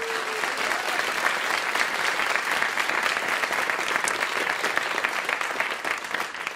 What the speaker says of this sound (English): A big round of applause for those folks.